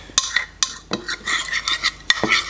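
A spoon stirs the sauce for a Thai shrimp salad in a bowl, giving a quick run of close, sharp clinks and scraping sweeps against the side at an uneven rhythm. No one speaks.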